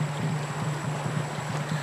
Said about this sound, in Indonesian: Sungai Mabul yang kami lalui ini berarus cukup deras